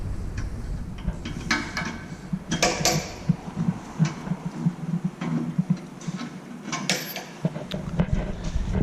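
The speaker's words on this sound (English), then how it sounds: "And now to lower the chamber to get to the knives." The chamber of a C 40-60 tangential plastics granulator is lowered to reach its knives, giving a run of close mechanical clunks, creaks and metallic ticks in irregular bursts with brief quieter gaps and no speech.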